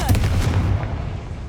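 A Confringo blasting spell fires in the Hogwarts Legacy video game, giving one loud, close burst with a booming low-end impact that quickly fades.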